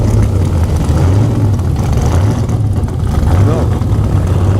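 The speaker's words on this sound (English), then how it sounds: "there's a hot rod with a big loud engine." Hot rod with a big, loud engine at a car show cruise night, rumbling with a deep, steady low throb and slight revving swells, close and loud under the general street noise of the crowd.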